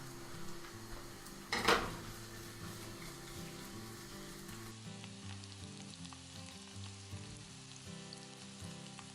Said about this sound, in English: I'm going to let these guys fry up until they're nice and brown